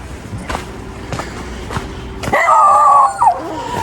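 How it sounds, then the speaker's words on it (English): Several sharp dog barks spaced about half a second apart, followed by a loud drawn-out howl and whimpering yips, fairly close, on a hike to Palo Maria Waterfalls near Puerto Vallarta, Mexico. "You just heard those dogs barking"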